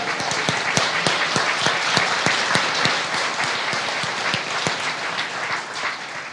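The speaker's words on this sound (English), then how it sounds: "Give John a round of applause" A crowd at a conference talk applauds steadily and loudly throughout, dense clapping with a few sharp individual claps standing out near the front.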